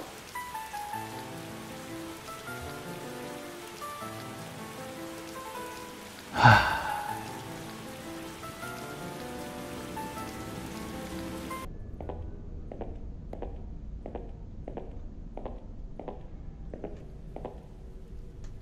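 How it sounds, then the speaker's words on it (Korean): Rain falls outside a window in the Korean horror game White Day mobile, a dense steady patter that carries on throughout, with one sharp louder burst partway and a plinking melody over the later section. "창밖에는 비가 내리고"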